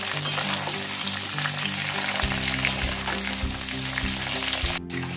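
Mango pieces frying in oil in a wok for pickle give a steady, close sizzle that runs throughout, with faint low hum lines underneath.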